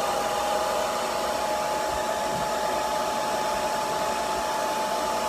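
Conair bonnet hood hair dryer running on a low setting, giving a steady, even whooshing blower noise with a faint motor whine throughout and no speech.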